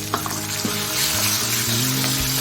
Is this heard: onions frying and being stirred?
yes